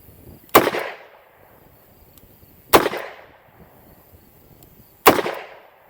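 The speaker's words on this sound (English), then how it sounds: "this gun shoots 38 specials better than it shoots magnums" Three loud, sharp reports from a Colt Trooper MK3 revolver firing .38 Special rounds, spaced about two seconds apart, each with a quick decaying echo, outdoors and with no talking.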